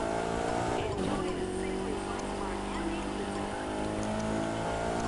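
A Lancer Evo 6 drifting in The Crew 2, the engine droning at high revs with tonal whine shifting pitch as the car slides, loud and continuous, with a voice talking over it.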